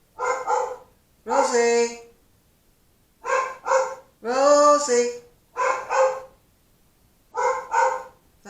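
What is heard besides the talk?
dog barking indoors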